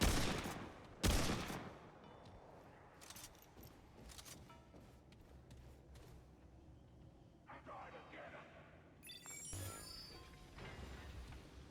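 A deployed automatic turret in the video game Remnant 2 fires sharp bursts, two loud shots up front followed by scattered quieter shots and clinks, with a player's voice over parts of it.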